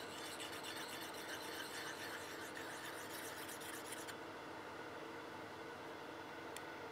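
A steel scraper rubs against the edge of a wooden goblet spinning on a lathe, giving a steady, faint, hissing rasp that changes partway through.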